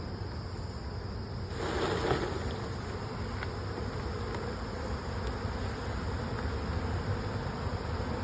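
Honeybees buzz around an opened hive, a continuous low insect hum close by with faint passing buzzes and light wind, no voices.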